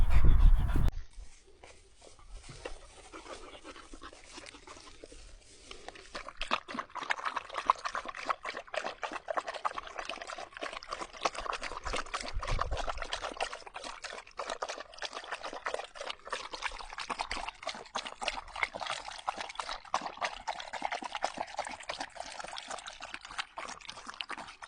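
A small dog out on a walk laps at water poured for it beside a car: a long run of rapid, wet lapping and trickling close to the microphone, with some panting and pouring at the start.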